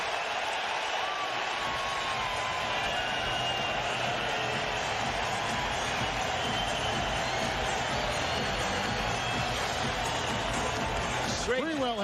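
A roaring playoff basketball crowd in a packed arena cheers steadily for a New York Knicks comeback against the Miami Heat, a loud, continuous wall of noise with an announcer's voice running over it.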